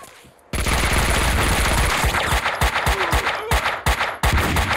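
Shotgun fire in the video game Max Payne 2: after a brief quiet start, a loud burst of rapid, repeated gunshots with sharp booming blasts rattles on continuously.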